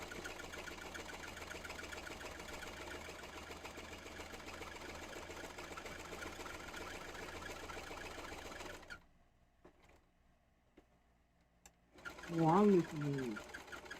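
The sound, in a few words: sewing machine stitching a zigzag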